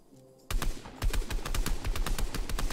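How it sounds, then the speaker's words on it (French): Rapid gunshots in Fortnite, starting with a single loud crack after a quiet moment and then breaking into a fast, steady stream of close shots. "Je vais lui tirer une balle pour qu'il vienne."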